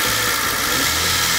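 A 1999 Honda Civic engine with over 200,000 km runs steadily with a misfire and vibration. It gives a continuous mid-pitched idle hum with a rough low rumble, close and alone.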